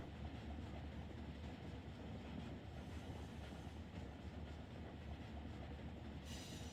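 Train rolling along rails in the Run 8 Train Simulator game, with a steady, continuous rumble of wagons and wheels throughout, loud and close, with no talk over it.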